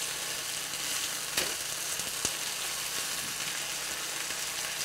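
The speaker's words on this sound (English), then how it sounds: "So you sear it in your skillet" A rare burger patty searing in a hot skillet gives a steady, close hiss and crackle with a couple of faint scrapes, and no voices.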